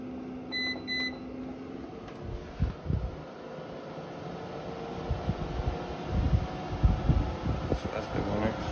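An air purifier is switched up to its max fan setting: a couple of short beeps, then a steady whooshing fan hum that grows, with handling bumps nearby.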